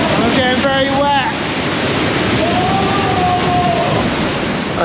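Powerful waterfall roaring as a loud, steady broadband rush close by during a bikepacking trip in the Alps, with a person's voice rising over the noise near the start and again midway.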